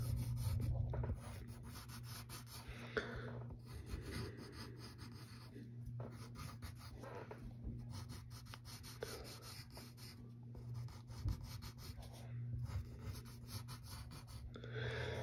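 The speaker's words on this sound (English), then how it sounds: "you draw an oval for the lens" A pencil or pen scratching lightly across paper while drawing an oval goggle lens for a cartoon character, soft quiet rubbing strokes repeating in short bursts with brief pauses.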